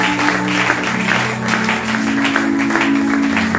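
Church congregation applauding and cheering at a French-language service, a loud dense wash of clapping with sustained vocal tones from the crowd underneath, holding steady throughout.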